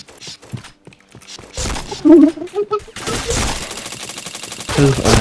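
Gunfire in a shooting video game comes in sharp bursts, a tight rapid volley near the middle and then a dense, sustained stretch of shots toward the end, with a person speaking over parts of it.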